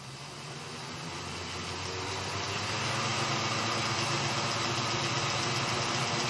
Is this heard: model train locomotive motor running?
yes